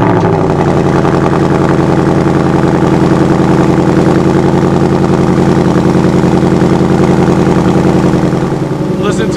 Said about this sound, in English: Listen to that exhaust of the Mustang Bullit. It's really loud.